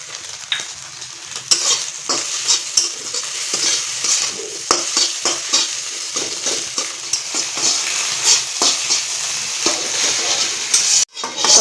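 Oil and onions fry loudly in a pan for egg chowmein, a steady close sizzle broken by frequent stirring scrapes and clinks of a utensil against the pan, with no talking.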